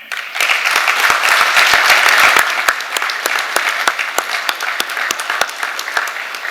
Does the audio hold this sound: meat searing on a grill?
no